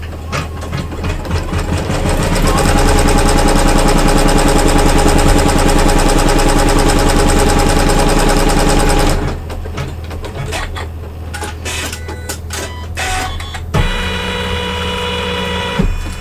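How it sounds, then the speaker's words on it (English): An embroidery machine stitches an in-the-hoop zipper pouch, running loud and steady for several seconds with a rapid, even mechanical whir, then shifting to irregular stops and starts and short bursts, close up. "Return the hoop to the machine"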